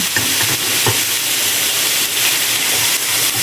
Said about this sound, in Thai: ผัดกะเพราของเรา คนให้เข้ากันนะคะ